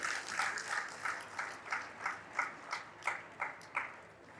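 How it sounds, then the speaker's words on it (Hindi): Audience at a Jain sermon during a Panchkalyanak festival in Budhar claps in unison, a steady rhythmic applause of about ten even beats, moderately loud and distant in a large hall. "अपने भाग्य को सराह कर एक बार अपने लिए ताली बजा लो"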